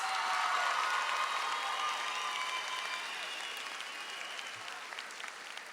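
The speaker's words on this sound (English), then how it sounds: "Let's give her another round of applause." Graduation-ceremony audience at Manzano High School, class of 2019, applauding: a dense, steady wash of many hands clapping at moderate distance, gradually easing off over several seconds.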